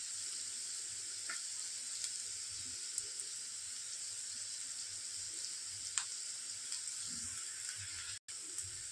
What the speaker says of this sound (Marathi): कांदा परतलाय.